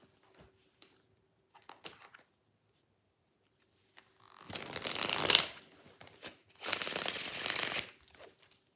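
A tarot card deck is shuffled up close in two bursts of riffling and rustling, each lasting about a second and a half, with a few light taps and handling noises before them and no one talking.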